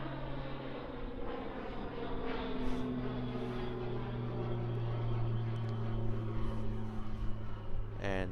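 Pilatus PC-12 turboprop aircraft at Christchurch Airport, a steady engine drone and propeller hum that builds gradually, heard from a distance outdoors.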